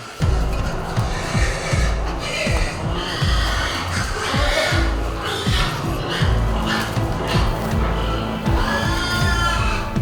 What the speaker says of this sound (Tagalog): Nakakapangilabot ang sigaw ng mga baboy at hindi ko ito kinaya